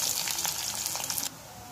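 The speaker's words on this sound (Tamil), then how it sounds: "இப்போ வெங்காயம் கொஞ்சளவு கொத்தமல்லி போட்டு வதக்கிருக்கோம்" Shallots sizzle loudly with coriander in a pan over a wood-fired stove after mustard seeds have been tempered, giving a bright, close hiss that suddenly drops away to a faint background.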